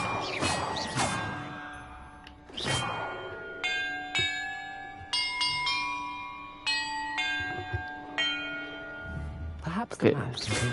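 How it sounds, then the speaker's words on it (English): Bells ringing one after another in a bell-order puzzle in the Hogwarts Legacy video game, clear sustained metallic tones struck in sequence with long ringing decays, alongside game whooshes and effects. "Perhaps the map contains clues about the order I'm supposed to ring the bells in."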